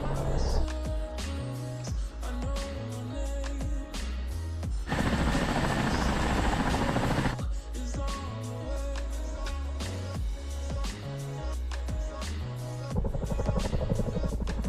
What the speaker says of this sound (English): That thing is sexy. Love the Chinook, man.